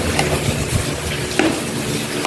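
Food stirred and mixed in a pan: scraping and clattering over a steady sizzle of frying, continuous and close, with no talk.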